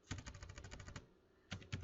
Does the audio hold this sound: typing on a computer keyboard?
yes